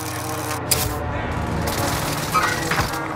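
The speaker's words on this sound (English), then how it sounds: "airstrike is it. I'll do an airstrike." Airstrike in Call of Duty Warzone on rooftop campers: a steady rumbling wash of distant explosions with scattered gunfire cracks, continuous and moderately loud throughout.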